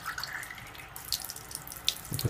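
Purified, non-ionized water runs from an alkaline water ionizer KYK 66000, a steady close splashing stream with small drips and gurgles throughout.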